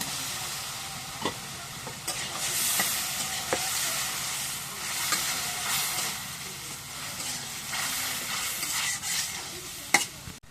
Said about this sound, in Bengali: মশলাটা কষানো এর সাথে মাছগুলো দিয়ে দিই